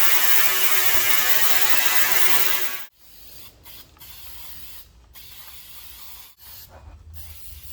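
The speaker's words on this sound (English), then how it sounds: "media blasting the thermostat housing" Media blasting a corroded thermostat housing inside a blast cabinet for an LS Vtec engine build: a loud, steady hiss of compressed air and grit that cuts off abruptly, followed by quieter bursts of air and rattling.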